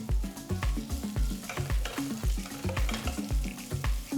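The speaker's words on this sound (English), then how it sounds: "Saute till the onions are transparent." Thinly sliced onion and chopped green chili sautéing in oil, a continuous sizzle broken by rhythmic stirring scrapes and clatter from a spoon, close and steady without speech.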